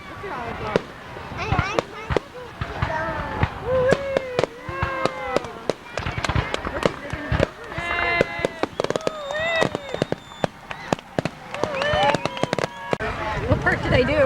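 Fourth of July fireworks display celebrated on July 5th, 1999, with dense, continuous bangs, crackles and whistling bursts throughout, people talking and calling out over the explosions.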